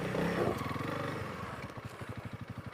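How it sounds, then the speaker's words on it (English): Honda CRF300L motorcycle engine revving in a steady pulsing chug as its rear tire spins on steep ground, close and fairly loud, the rhythm slowing into evenly spaced throbs. "You can tell hear my tire spinning"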